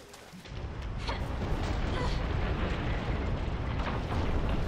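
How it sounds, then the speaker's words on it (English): In the video game Resident Evil 6, a tank crashes through a wall, producing a loud sustained rumbling crash with rubble-like roar that builds and continues for several seconds, with no talking. "The fucking tank goes through a wall."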